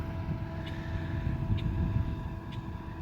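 A Predator 3500 generator runs steadily on its exhaust side, a loud constant engine drone with an exhaust fan hum and faint periodic ticks, heard close up.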